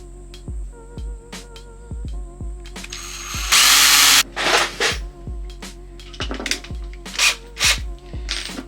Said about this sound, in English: So sit it on a bit of old timber so you don't drill into your bench. You don't want to do that. And pre-drill your holes.